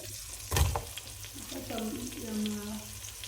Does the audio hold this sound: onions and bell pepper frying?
yes